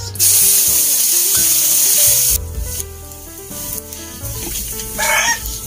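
Garlic sizzling loudly in a hot pan, a bright crackling hiss that starts abruptly and carries on, with a brief stirring clatter and a rooster crowing faintly in the background near the end.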